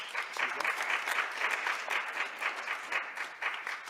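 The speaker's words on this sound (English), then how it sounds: "Let's hear another round of applause for Sean" Applause from an afternoon audience at a Celtic culture program in Pittsburgh's Scottish Room after a musician's set, moderately close and even, with individual claps rippling through the steady patter.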